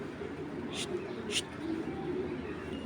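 A Giribaz pigeon coos softly in a loft, low purring coos under a steady background hiss, with two brief faint flutters.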